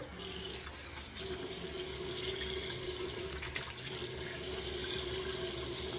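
A shaving razor is rinsed under running tap water, heard as a continuous, even rush of flowing water, moderately close, for several seconds with no pauses.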